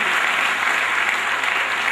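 Dense, steady applause from an audience at a student awards ceremony, loud and continuous as a tenth-grade student is called up, with no speech over it.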